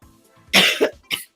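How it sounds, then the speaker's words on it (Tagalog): A couple of sharp coughs close to the mic, the first longer and rougher with a double burst, followed by a shorter one. "Yun ang problema, inuubo ako."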